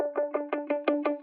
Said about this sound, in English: there's also a basic guitar and synth loop that plays throughout most of the song that gives a nice